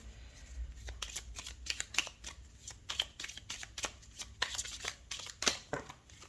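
Tzigane oracle cards being shuffled, a run of quick papery riffles and flicks, close and fairly soft, with no talk.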